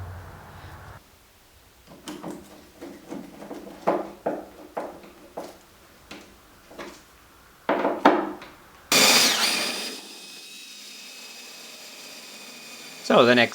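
Power drill boring oarlock holes through wood in a small boat build, a loud high whine that starts abruptly near the end after scattered knocks and handling noises, with a voice speaking earlier.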